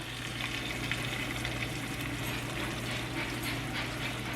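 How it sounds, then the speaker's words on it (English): Pasta sauce hitting a hot pan while spaghetti squash is cooked, giving a steady, close sizzle and crackle that stays even throughout with no talking. "I have a cup of pasta sauce that I'm going to add to that."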